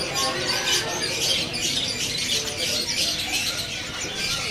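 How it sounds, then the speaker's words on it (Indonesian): Australian parakeets in a bird-seller's kiosk keep up a dense, continuous chatter of chirps and twitters, a busy wash of many caged birds heard close with no talking. "Ada juga burung falak Australia."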